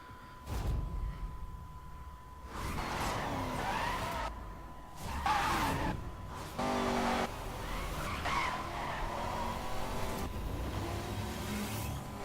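A Bugatti Veyron Super Sport drifts in the racing game Need for Speed: Most Wanted 2012, tires squealing and skidding over a steady engine roar in several loud bursts with no talking.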